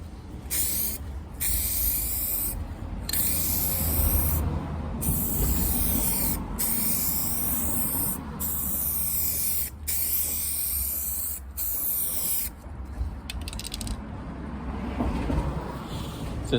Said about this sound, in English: then respray just to blend the edges